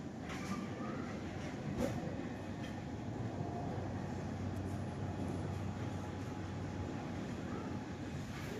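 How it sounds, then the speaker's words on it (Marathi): Metro train arriving at an underground station on Mumbai's Aqua Line, a steady low rumble and rolling hum of the approaching train heard from inside another car, with faint clicks and no talk. "आगे से भी मेट्रो आ रहा है एक."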